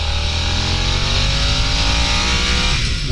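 A 2022 Harley-Davidson Nightster motorcycle accelerates hard, its engine a loud, steady drone climbing in pitch over a few seconds, with heavy wind rush throughout.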